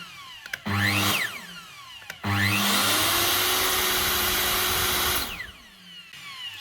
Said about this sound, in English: The electronic brake kicks in to stop the machine nice and quick.